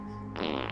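A single short, wet burp sound effect from the indie video game Fart Hero lasts under half a second and stands out clearly over a steady background tone.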